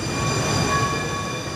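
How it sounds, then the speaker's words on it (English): A Gold Line streetcar in Charlotte rolls along a city roadway shared with cars, pedestrians and bicyclists, giving a steady loud rail rumble with bright sustained tonal whine above it; no distinct horn blast or separate beeps stand out. "The beeps and the horns from the vehicle are there to protect you."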